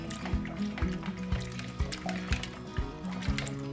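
A stick stirs maggots in a small bucket of cold water, giving rhythmic sloshing swishes about twice a second with sharp watery knocks, close up and without speech.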